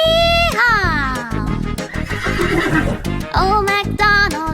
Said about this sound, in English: And on his farm he had a horse, E-I-E-I-O.